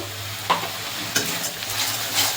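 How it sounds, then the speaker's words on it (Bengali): Spices with turmeric and Kashmiri chilli powder fry in a pan for fish curry, giving a steady soft sizzle broken by a few scraping stirs, close up with no talk. "ভালোভাবে মশলাটাকে কষিয়ে নেব"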